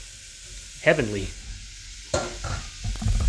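Onions and other vegetables sizzle and crackle in a hot pan, with loud bursts as food hits the oil and stirring noises; a voice briefly speaks.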